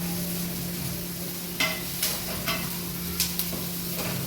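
Onions sizzle steadily in a hot pan for a prawn fry, with occasional stirring scrapes breaking through the constant close frying hiss and no talking.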